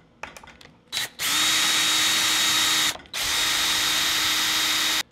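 A power drill backs screws out of a 1/4 inch thick low-profile tail skid plate on a freestyle skateboard: a few short clicks, then two long, loud, steady whirring runs with a brief pause between, close up.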